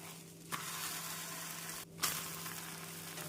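Wheat dosa sizzles on a pan in a steady close frying hiss, broken by two short pauses and scraping touches, with no voices.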